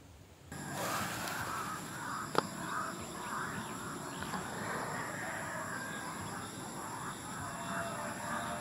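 A wild crow calls outdoors, its caws faint and distant above a steady hiss of ambient noise, with one sharp click near the start and no talking.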